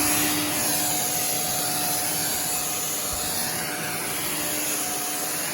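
A Shark Duo Clean vacuum cleaner runs across extra thick long-pile carpet with a steady, loud, close motor whine and airy suction roar. The sound is continuous, with no talking.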